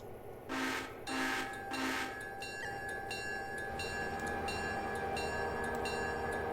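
A steam-era freight train in the Railroader simulation game sounds three short horn blasts, then rolls on with a steady engine drone, a sustained whistle-like tone and intermittent clanks of rail cars.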